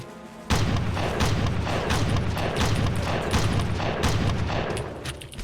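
Steady bursts of gunfire from the PC shooter Red Faction, heavy repeated shots with booming low thumps in a regular rhythm, loud and close throughout with no talking.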